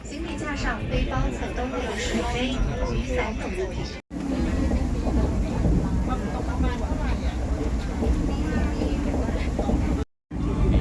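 A steady, loud rumble of a train departing Vientiane, Laos, fills the whole stretch, with people talking underneath and a brief cut in the sound.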